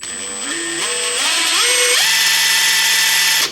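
A Makita XWT08Z 18V brushless cordless high-torque impact wrench runs steadily at medium speed, its motor whine stepping up in pitch several times before holding a loud, continuous high tone, close and without talk.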